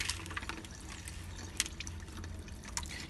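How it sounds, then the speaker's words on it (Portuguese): Water runs from a tap during a soil mechanics hand-washing demonstration, a faint steady splashing stream with scattered drips throughout, heard alone without talking. "Irei ligar novamente a torneira."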